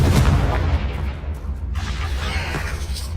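Confringo, an explosive spell in the video game Hogwarts Legacy, going off in combat: loud, close booming blasts with crackling bursts and a whooshing rush, rumbling continuously for about three seconds with no voices.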